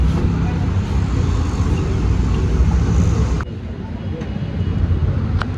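A car passes close by on a road at a family gathering, a steady broadband roar that cuts off abruptly and then rises again, with people talking nearby.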